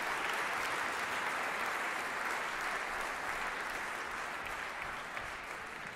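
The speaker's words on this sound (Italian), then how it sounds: "applauso." A concert audience at a conservatory tribute to the Alpini breaks into sustained applause, a broad, even wash of many hands clapping at moderate distance with no speech over it.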